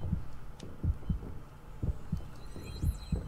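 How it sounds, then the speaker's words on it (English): A heartbeat sound effect from the game Dead Space 3 pulses in a steady, low double-thump rhythm, loud and close, with faint electronic game tones in the background. "Heartbeat's going off."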